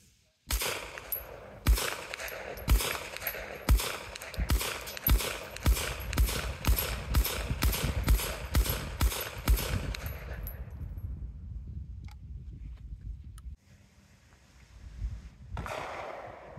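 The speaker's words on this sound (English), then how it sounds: "let's take this thing to the range, put a few rounds through it" Homemade mini Tommy Gun in .380 blowback firing rounds at an outdoor range, about a dozen loud, sharp, closely spaced shots in a steady rhythm, then quiet, then one last faint report near the end.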